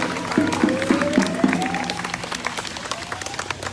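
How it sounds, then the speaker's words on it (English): A crowd at a street protest in Sunbury, Pennsylvania claps, a dense, lively round of applause with some distinct nearby claps, a drawn-out voice rising over it, and cheering in the background. "Everybody, please get Ed a round of applause."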